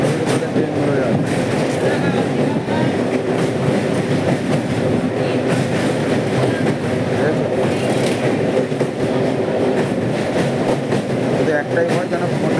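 A train passes close by, filling the scene with a loud, continuous rumble and rhythmic clatter of wheels on rails that persists unbroken for over twelve seconds.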